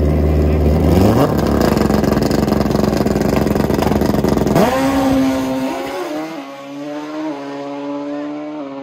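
Drag racing motorcycle at a grudge race, its engine roaring loud and steady, then shifting into rising revs with harmonic sweeps as it pulls away down the track, fading slightly toward the end.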